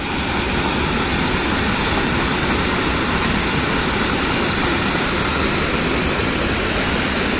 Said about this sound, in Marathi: जसा जसा टाईम वाढत चाललाय तसा तसा पाण्याचा प्रवाह वाढत चाललेला आहे